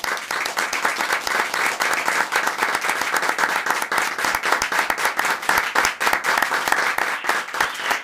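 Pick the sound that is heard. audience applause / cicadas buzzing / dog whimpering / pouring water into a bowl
audience applause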